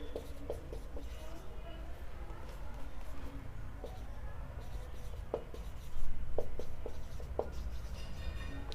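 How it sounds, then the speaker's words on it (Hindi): Marker or chalk strokes on a board during a Class 12 physics lecture on charges moving in a magnetic field, with a steady scratchy scribbling texture and several short sharp taps, heard close and at moderate level. "अब लिखते हैं"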